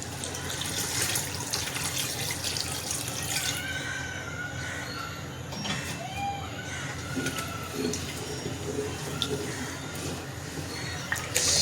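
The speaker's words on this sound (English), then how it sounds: "add in the extra water" Extra water poured into a simmering beef stew, a steady splashing pour with drips and trickles, while distant birds and a rooster call faintly in the background.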